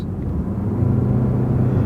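A car engine rumbles steadily at low pitch, building slightly in strength as it pulls forward, close and continuous with no voices.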